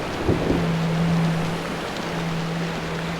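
Continuous wash of simulated waves in the video game Floating Sandbox, a broad rushing surf-like noise with a low sustained hum running underneath, steady throughout and without talk.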